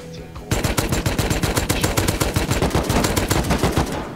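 Rapid, continuous Tommy gun fire in the survival video game Rust, a loud, dense burst of evenly spaced shots starting after a brief quiet moment and running to the end.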